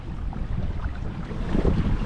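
Strong wind of about 20 mph, gusting higher, buffets the microphone out on open water while kayak fishing in Hobie kayaks, a steady low roar that swells louder near the end.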